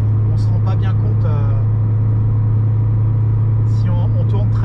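Peugeot 205 Junior 1990 with a 1-litre engine and 4-speed gearbox cruising at 90 km/h, a loud steady low engine drone and road rumble filling the cabin, while a person talks over it.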